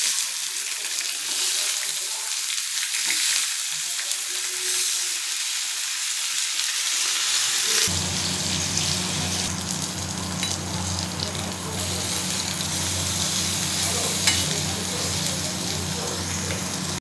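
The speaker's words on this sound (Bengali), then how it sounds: "মোচার পাতুরি হচ্ছে, এবার হয়ে গেছে, তুলে দেবো।" Mocha paturi, banana flower wrapped in parcels, frying in a pan with a constant hissing sizzle that deepens and thickens halfway through, with faint voices in the background.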